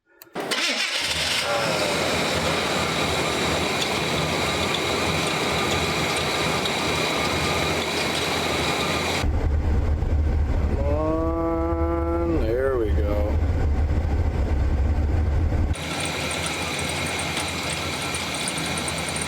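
A 1986 Chevy C30 engine running with a noisy alternator, a loud steady idle with a whining tone on top, shifting to a deeper rumble midway with a brief warbling squeal before settling back.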